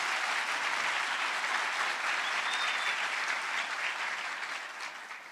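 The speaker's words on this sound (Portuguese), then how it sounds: "uma salva de palmas para os escritores" Steady applause from a lecture audience in Curitiba, honoring the writers, a dense even wash of clapping hands that holds for several seconds before easing slightly at the end, with no voices over it.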